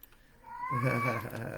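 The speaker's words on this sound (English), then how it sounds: "That's our cat Shuggy in the background" A pet cat in the background lets out one drawn-out meow, rising and then falling, quiet and somewhat distant in an indoor room.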